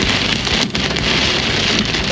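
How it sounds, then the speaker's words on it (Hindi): Heavy rain pounds steadily on a car during a drive toward a hilltop shrine en route from Delhi to Ladakh, strong wind gusting through a dense, continuous roar with no talking. "देखिए कितनी तेज बारिश है"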